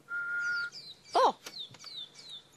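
A pearl-spotted owl answers with thin whistled notes on a safari sunset drive, a steady whistle followed by several short descending whistles, faint and spread over a couple of seconds in a quiet outdoor setting.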